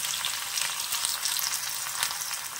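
Chopped onion frying in plenty of hot mustard oil to make crispy beresta, a loud, dense crackling sizzle that bubbles continuously and close up, with no talking.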